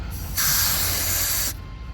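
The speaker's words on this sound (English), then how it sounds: "they're gonna spray a lot if you open it too much. So we're just breaking it." Refrigerant hoses (3/8 and 1/4 inch) on an HVAC system hiss loudly as vacuum is broken after a compressor replacement, a steady close rush of air lasting about a second before cutting off to quiet background.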